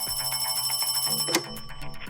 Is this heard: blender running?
no